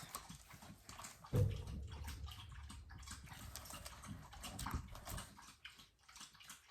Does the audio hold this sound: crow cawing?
no